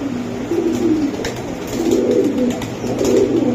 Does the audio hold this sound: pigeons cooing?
yes